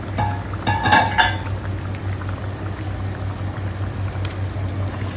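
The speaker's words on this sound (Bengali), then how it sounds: "এখন আমি আলুগুলো দিয়ে দেবো, চন্দ্রমুখী আলু তো ওই জন্য একটু লাস্টে দিলাম।" Chandramukhi potatoes tumble into a hot cooking pan, giving a brief splashing sizzle burst near the start that settles into a steady low simmer and hum, with no talking.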